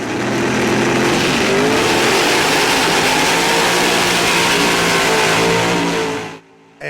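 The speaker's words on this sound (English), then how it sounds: "it's just the sweet sound. These mountain motor maniacs and their cars." Mountain Motor Pro Stock drag car at an NHRA event in Virginia, its big engine revving in a loud, continuous roar that holds steady for about six seconds before cutting off abruptly near the end.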